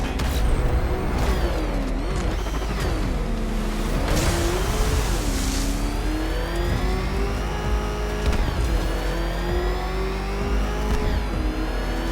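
A car engine revs and accelerates hard, the tone climbing and sweeping through gear changes, loud and continuous, with mechanical whine and passing roar throughout.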